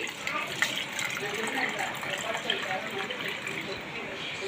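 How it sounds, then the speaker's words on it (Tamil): Milk of blended nungu (ice apple) with cardamom runs through a strainer, a soft continuous trickle and splash of liquid close by, with no talk over it. "இப்போ வந்து இந்த பாலை வடிகட்டி"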